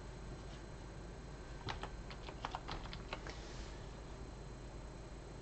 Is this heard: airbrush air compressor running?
no